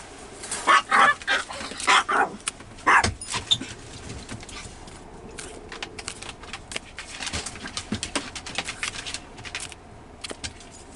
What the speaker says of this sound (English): Excuse my dogs, they're going out potty.